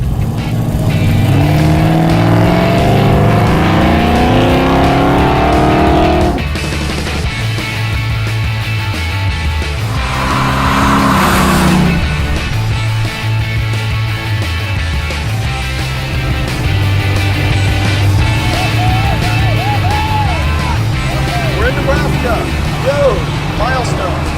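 A 1970 Dodge Challenger on the road, its engine a loud, steady rumble with a rising surge of acceleration partway through, heard from inside the car under ongoing conversation.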